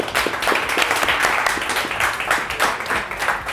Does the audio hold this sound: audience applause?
yes